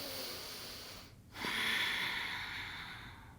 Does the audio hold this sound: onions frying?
no